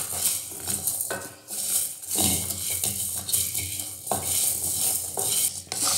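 Mandi spice masala being dry-roasted in a pan over a low flame, a spoon repeatedly scraping and stirring through the spices in irregular strokes over a faint sizzle, close up with no voices.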